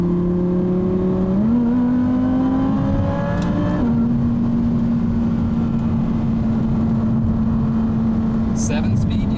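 A Can-Am Maverick X3 X RS Turbo RR with a seven-speed DCT revs loud and close, its steady engine drone stepping up in pitch through quick gear shifts, then holding a sustained high note.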